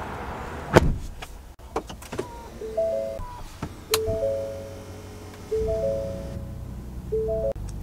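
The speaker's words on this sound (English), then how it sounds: "and then the steering wheel is power adjustable" A power-adjustable steering column on a 2023 Ford F-150 Limited moves in several short electric motor whirs, each a steady whine starting and stopping, heard close up inside the cab.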